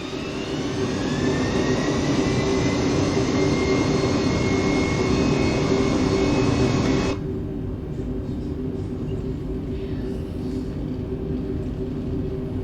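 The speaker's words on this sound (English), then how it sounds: "Let's go ahead and get the plane going." A Cebu Pacific A320neo roars through its takeoff roll in a flight simulator, a loud, steady jet-engine rumble with whining tones that cuts off abruptly to a quieter cabin hum partway through.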